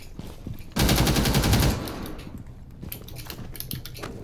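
A burst of rapid automatic gunfire in a video game, a dense loud rattle lasting about a second, followed by scattered lighter shots and clatter against steady background noise.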